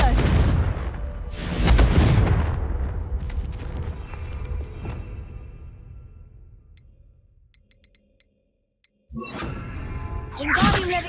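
A Confringo fire spell cast in the Hogwarts Legacy video game: a loud fiery whoosh and booming blast that slowly decays, then near-silence before a second sharp burst and crackling impact.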